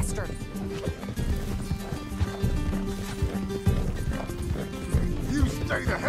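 In Red Dead Redemption 2, a horse gallops with rapid, rhythmic hoofbeats at moderate level, running under almost constant character dialogue and game sounds.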